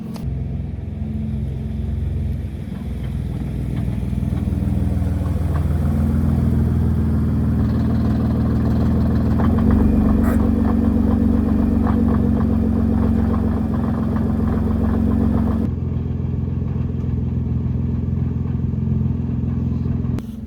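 A 2015 Nissan GT-R sitting and warming up, its engine idling with a steady low rumble that thickens slightly midway and then settles again, close by and continuous without anyone talking.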